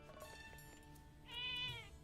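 A cat meows in the video game Zelda: Echoes of Wisdom, one short bright meow rising over steady game music and ambience near the end.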